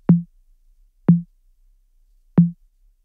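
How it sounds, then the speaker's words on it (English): Three evenly spaced, deep conga hits made in FL Studio, each a short resonant thump with a quick attack, separated by about a second of silence. "this is what the conga sounds like."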